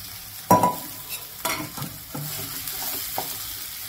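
Mashed potato is stirred into garlic frying in a pan for batata vada, with a loud scraping stir at the start, then sizzling and a few more spoon scrapes and taps against the pan.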